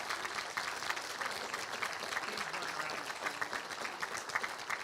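Audience at a festival forum applauding Nicholas Inman, continuous crowd clapping at moderate volume throughout, even and sustained without a break.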